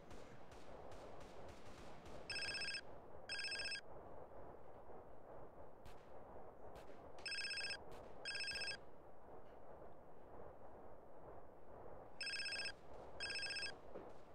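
A phone rings in a video game, its trilling electronic bell sounding in three paired bursts over a steady rumbling game backdrop of distant gunfire-like noise, with no voices.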